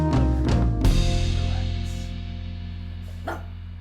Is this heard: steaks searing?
no